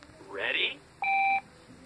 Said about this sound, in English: After you hear the beep, record your own fortune.